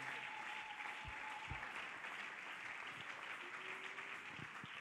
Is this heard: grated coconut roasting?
no